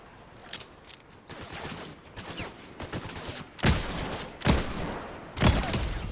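Pistol shots in Fortnite: several sharp gunshot cracks, three of them loud and well spaced near the end, over softer scattered in-game noise with no talking.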